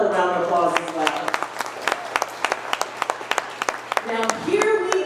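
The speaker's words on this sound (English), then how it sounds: "Let's give them another round of applause as well." Scattered applause at a realtors' awards gala, with individual claps standing out over talk and background music, then thinning near the end.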